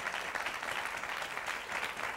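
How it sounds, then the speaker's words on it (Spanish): Audience applause during a live television interview, a steady dense wash of clapping sustained evenly at moderate level throughout with no voices on top. "Un aplauso para ella, por favor."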